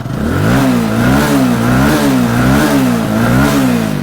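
A TVS Apache 200 motorcycle engine, being checked for a charging fault, revs loudly up and down close by in repeated rhythmic surges, roughly six swells over a steady idle rumble.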